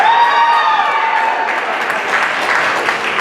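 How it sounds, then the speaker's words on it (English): Audience applause from a crowd at a middle school professional development gathering, a steady, dense wash of clapping that carries on for about three seconds without a break. "I've reached an age where I have to make people clap for me"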